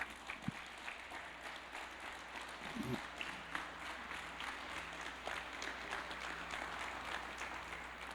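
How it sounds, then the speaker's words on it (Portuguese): A church congregation applauds during a Sunday service, a steady faint wash of clapping from many hands heard at a distance, with a couple of brief knocks and a low hum beneath. "Uma salva de palmas para Jesus"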